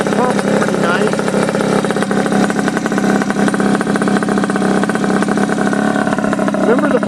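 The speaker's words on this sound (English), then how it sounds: "Remember, the bike has got to idle." A Honda Dio scooter fitted with a race pipe idles steadily up close, a continuous buzzy two-stroke drone with little change in pitch, while a voice talks over it throughout.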